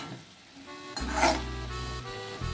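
Ridge gourd fritters in a pan get stirred with a brief scraping rub over a soft sizzle, the stir louder for a moment around the middle before the frying settles back to a steady hiss.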